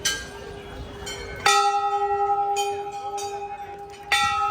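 A large temple bell at Ugna Mahadev temple is struck twice, each loud clang ringing out and decaying slowly with a pulsing hum, over a murmur of people.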